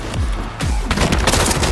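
Rapid automatic gunfire from an AK rifle in Call of Duty, loud and close, in dense bursts with booming low-end shots and rattling reports layered over each other.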